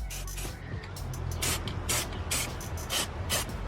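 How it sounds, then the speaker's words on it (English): A spray paint can hisses in a series of short repeated bursts onto metal engine mounts, close and fairly loud, over a low rumbling background. "Go ahead and hit these with a can of spray paint just to clean it up"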